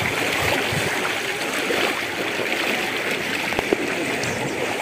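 Floodwater flowing around a flooded house during a strong typhoon, a continuous close rush and gurgle of moving water with a few small splashes and knocks.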